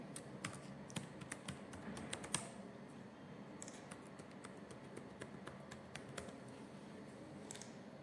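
Quiet, irregular keystrokes on a computer keyboard as data is entered into a form, scattered clicks with short bursts and pauses, close and alone with no talk.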